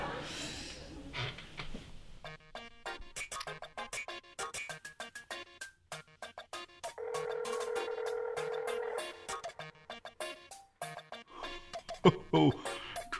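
Telephone in the video game Onimusha 2 being dialled: a string of short electronic tones and clicks, followed by a sustained ringing tone in the middle, with quiet pauses and small effects between.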